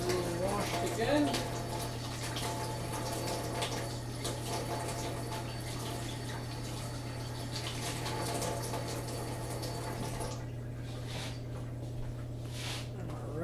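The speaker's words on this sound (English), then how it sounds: "We're just going to get hands a little washed again." Water runs steadily from a kitchen tap while hands are washed beneath it, a soft continuous splash with a low hum underneath, fading near the end, and a voice speaks briefly at the start.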